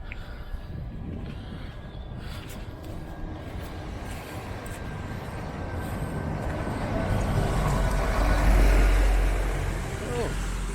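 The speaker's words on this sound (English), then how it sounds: "Looks like a fuel tanker." A large fuel tanker truck rumbles past in Lydford village, Devon, its low engine roar swelling to a peak near the end over steady road noise.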